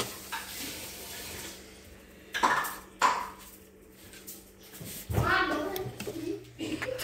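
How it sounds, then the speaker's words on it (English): Utensil scrapes and clinks against a bowl of cracked eggs as bits of shell are scooped out, a few sharp taps standing out, with someone talking over the handling noise. "if you get a shell, you have to bring it to the edge. Try to like scoop it out."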